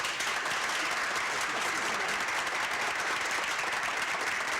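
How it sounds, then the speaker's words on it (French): An audience at a centenary celebration gives warm, sustained applause, a dense and even wash of clapping heard from within the hall, holding steady throughout. "Je pense que vous méritez de chauds applaudissements."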